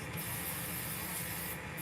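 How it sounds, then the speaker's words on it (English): Ink-dissolving solvent sprayed onto screen-printing squeegees during cleanup, a steady continuous hiss close by with a faint rubbing texture, no talking. "I'm just spraying this ink so we can dissolve off of here and cleaning up all these squeegees."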